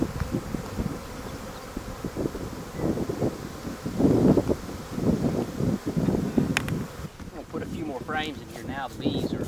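A swarm of honey bees settles into a hive box with frames, giving a steady buzzing drone that swells and fades, with handling noises and some brief clatter close to the mic and bursts of wind noise.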